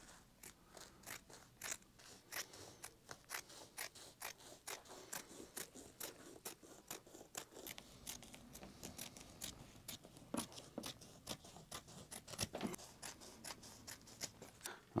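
Scissors cut through upholstery fabric for a VW T5 pillar trim cover, a close, steady series of crisp snipping clicks at an even rhythm with no talking.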